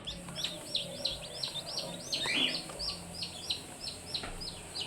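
Day-old 5K Sweater gamefowl chicks peep constantly in a rapid string of high, thin chirps, close and fairly loud, with occasional light rustling beneath.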